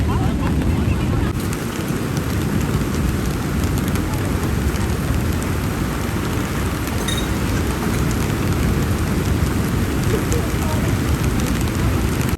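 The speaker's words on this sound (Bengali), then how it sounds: "জোরে বৃষ্টি পড়ছে, আওয়াজ নিশ্চয়ই পাচ্ছ" A loud, steady roar of heavy rain pours down without a break near the sea, dense and continuous, with a windy rush underneath.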